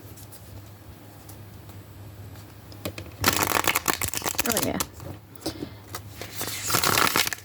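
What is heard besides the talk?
ruffle shuffling a thin-cardstock tarot card deck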